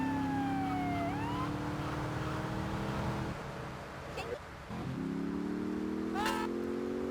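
Police car sirens in an old open-world crime game, wailing tones rising and falling close by, layered over a steady car engine drone, with a voice talking over them.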